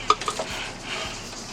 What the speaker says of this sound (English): We're going to add the pasta to the cream sauce here.